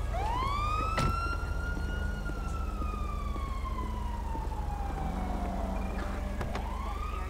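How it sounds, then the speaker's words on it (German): A police car siren wails in the GTA 5 LSPDFR police mod, a loud sweeping electronic tone that slowly falls and rises over a steady engine drone, with no talking. "Natürlich wirst du mit Sirene begleitet."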